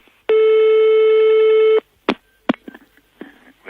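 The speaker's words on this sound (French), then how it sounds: "Mon téléphone." A telephone gives one long steady electronic ring lasting over a second, loud and close, followed by quiet room noise with a few knocks and clicks.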